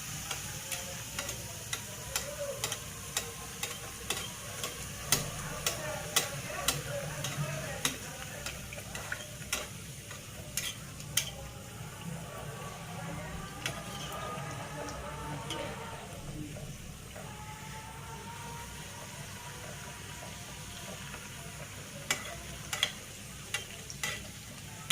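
Red amaranth leaf luchi dough sliding into hot oil and frying, a steady bubbling hiss with frequent sharp ticks and clatters of a utensil near the pan throughout.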